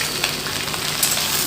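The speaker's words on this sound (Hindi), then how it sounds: "देखियो हमर सरसों तेल गरम भ गेल, तो एहिमे हम ई कटलका भिंडी धो देलिए।" Cut okra dropped into hot mustard oil in a kadhai, a steady, dense sizzle and crackle of frying with faint stirring, close and continuous, no talking.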